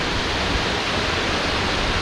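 Tuolumne Falls in Yosemite, a waterfall on the Tuolumne River, pours as a steady, dense broadband roar that stays constant and close, with no voices over it.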